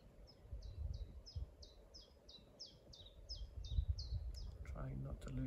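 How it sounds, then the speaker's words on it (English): A bird sings a rapid series of a dozen or so bright, repeated chirping notes, fairly close, over low rumbling wind-like noise, ending with a voice. "Trying not to lose sight of that bird song."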